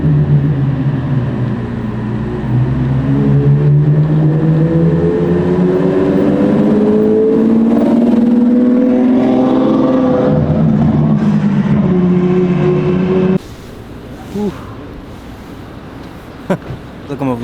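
Ferrari 812 Superfast V12 engine revving loudly as it passes on a city street in Washington, DC, its rising and falling drone swelling close by before cutting off abruptly, with voices chatting underneath.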